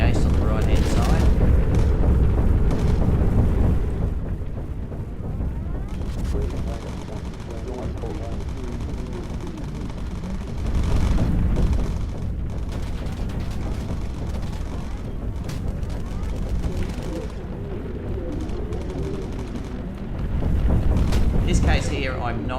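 Anti-aircraft flak fire bursting around a bomber in the video game Bomber Crew, heavy rumbling booms and crackling blasts swelling in several loud waves beneath steady engine drone, with someone talking over it.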